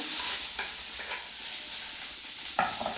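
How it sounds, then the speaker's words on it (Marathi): Tomatoes sautéing with softened onion in a hot pan give a steady close sizzle, with a few scraping strokes of the spoon breaking through near the middle and end. "आणि हे छान असं परतून घ्यायचं जास्त काळ न करता परतून घ्यायचं आहे"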